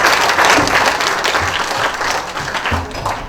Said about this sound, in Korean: 지금까지 강연을 해주신 정영훈 팀장님께 큰 박수 부탁드리겠습니다.